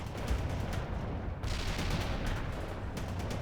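Sustained gunfire in World in Conflict during a Russian invasion of Seattle, dense rattling bursts and distant booms forming a steady loud battle din without talk.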